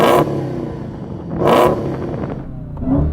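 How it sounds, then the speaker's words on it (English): A Dodge Challenger Demon or Porsche 911 Turbo S engine revved up to a soft limiter around 4,500 RPM, close and loud, in two or three sharp rising blips that settle back to a rumbling idle. "So I'm going to rev up this engine."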